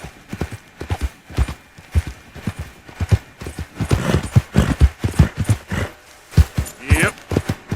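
Horse hooves galloping in the Red Dead video game, a rapid rhythmic clip-clop of close, loud hoofbeats with a brief whinny near the end.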